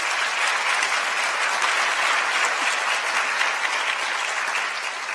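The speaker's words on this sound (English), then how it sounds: "So let's give Io a round of applause." Dense, sustained applause from a large dinner audience, a thick continuous wash of clapping filling the room for several seconds, steady and loud before tapering slightly at the end.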